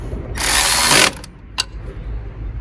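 A ratchet tightens the bolts on a Ford Ranger throttle body, with a loud, close burst of ratcheting lasting about half a second, then a short second click, over faint background noise.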